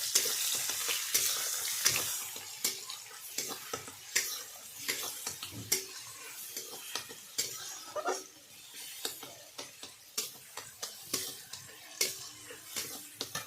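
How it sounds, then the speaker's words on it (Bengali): Garlic frying in hot mustard oil with sugar and bay leaves in a wok, a steady close crackle with frequent sharp clicks and scrapes of a utensil against the pan, no voices. "কড়াইতে সর্ষে তেল দিয়ে চিনি এবং তেজপাতা দিয়ে দিয়েছি তার মধ্যে দিয়ে দেবো রসুন লাল লাল করে ভেজে নেবো"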